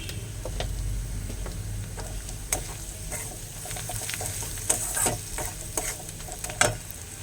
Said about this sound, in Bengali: আর একটু এই ভাজা মশলা দেব